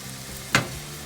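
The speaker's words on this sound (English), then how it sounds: "You hear the sizzle." Chicken for meal prep sears in a hot pan, giving a steady soft sizzle. A short, sharp hiss bursts out near the middle, with no talking over it.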